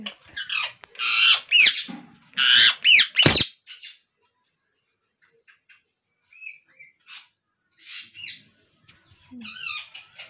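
Two birds squawking and quarrelling in the morning heat, harsh loud bursts of calls close by, then a near-silent pause before fainter scattered chirps and squawks return.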